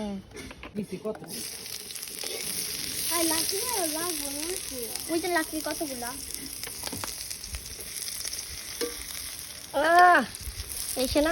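Onions frying in oil in a home kitchen: a steady sizzle and crackle continues throughout, with occasional stirring, while voices talk over it.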